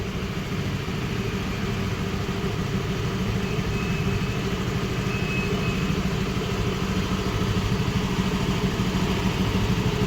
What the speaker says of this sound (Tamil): வண்டி ஸ்டார்ட் பண்ணிட்டோம்